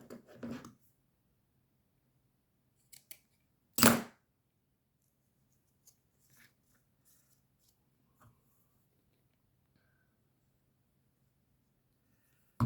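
Scissors snip through a piece of card during a card-folding craft, a sharp isolated cut followed by a few faint small clicks in a quiet room.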